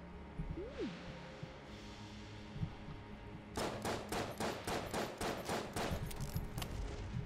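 Rapid gunfire in Enter the Gungeon, a fast burst of repeated sharp shots in the second half, preceded by quieter game effects and a brief rising tone.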